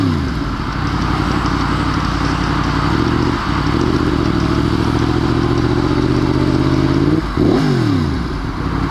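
A Yamaha FZ-10 motorcycle engine idling loudly and close with a rough, throbbing rumble, then blipped twice in sharp revs that rise and drop quickly, the second near the end.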